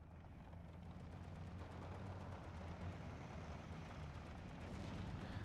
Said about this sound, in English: My artillery coming down to my own infantry.